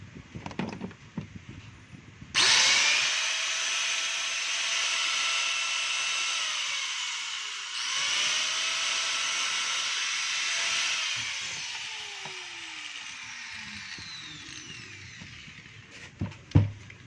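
A Carlton 4-inch angle grinder switched on for a test after repair, starting abruptly into a loud, steady high-pitched whirring hiss, dipping briefly midway, then winding down with a falling tone before handling clatter.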